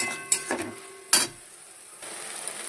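Chicken for methi chicken stirred with ginger, garlic, cumin and coriander paste in a hot pan: a few sharp utensil knocks and scrapes over a soft sizzle that grows steadier toward the end, nearby and without speech.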